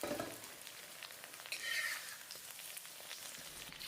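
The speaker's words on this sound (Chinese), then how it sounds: "油不用倒出，直接把鱼块下锅" Fish pieces go into the leftover oil in a wok after tofu has been pan-fried, giving a faint, continuous crackling sizzle heard close by with no talking.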